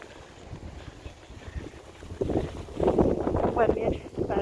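Strong wind gusting through a snowstorm in northern Germany, rushing and buffeting the microphone, growing louder and rougher in the second half, with faint voices beneath.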